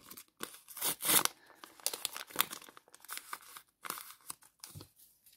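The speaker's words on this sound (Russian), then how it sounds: "Мы открывали пакетик и распаковывали." A crinkly paper surprise packet rustles and tears in quick bursts, ripped and pulled open up close with sharp crackling handling noises.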